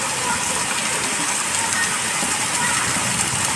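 Heavy rain pours down on a village in a dense, loud, continuous hiss that stays even throughout, with no pauses or distinct drops and no voices.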